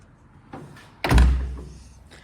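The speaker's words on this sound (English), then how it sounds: "And there's the suicide doors." A rear-hinged suicide door on a near-original classic car closes at an auction with one solid, heavy thunk close by, preceded by a soft click.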